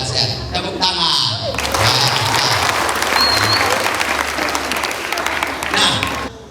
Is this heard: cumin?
no